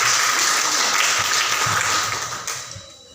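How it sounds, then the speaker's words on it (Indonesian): A classroom of students applauds together in a dense, even patter that holds for about two and a half seconds, then quickly dies away. "berikan tepuk tangan buat teman kalian."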